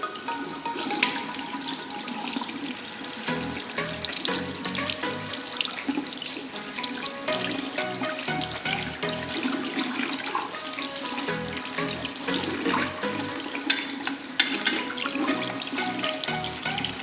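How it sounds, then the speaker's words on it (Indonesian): Tap water runs steadily into a sink while instruments are rinsed under the flow after soaping, with clinks and splashing shifts as items are moved through the stream. "kemudian kita membersihkan menggunakan air mengalir"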